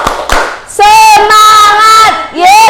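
A teacher-led group of mothers chants and claps a rhythmic Indonesian spirit-clap cheer in a classroom workshop, short sharp claps followed by loud, drawn-out voices calling out together.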